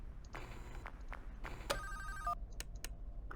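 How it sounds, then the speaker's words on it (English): Inside a Five Nights at Freddy's–style horror game, a telephone rings in short, quiet electronic bursts with a brief tonal chirp midway, all over a low droning background hum. "I'll let the phone call play through"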